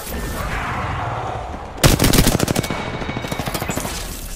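Video-game gunfire in a Shadow Royale battle mode: a sudden loud burst of rapid automatic shots erupts after a quiet stretch, then continues as a steady rattling stream of fainter repeated shots.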